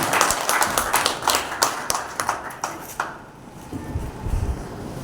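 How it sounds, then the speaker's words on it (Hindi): A crowd at a Hindi kavi sammelan poetry event bursts into loud, crisp clapping for about three seconds, then the applause quickly dies away into a quieter room with low murmuring. "केवल तालियां जोरदार नहीं,"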